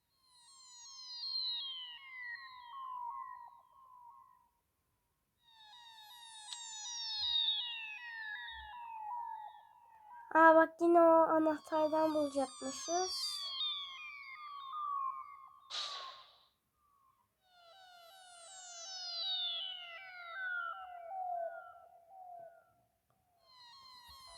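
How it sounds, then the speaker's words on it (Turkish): Rising and falling electronic siren wails in the Roblox game Tornado Alley Ultimate repeat several times, clear and fairly loud, with a short burst of other game sounds in the middle. "Neden böyle sirenler çalıyor hiçbir fikrim yok."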